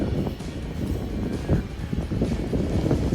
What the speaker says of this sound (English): It is really windy today, and it's Florida cold.